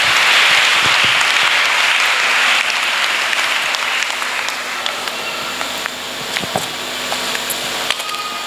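Audience applause at a church gathering in Côte d'Ivoire, a dense burst of clapping that is loudest at first and thins to scattered claps over several seconds.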